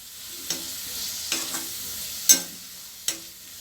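Green ivy gourd curry cooks over high heat in a pan, with a soft background sizzle broken by four scraping stirs of a spoon.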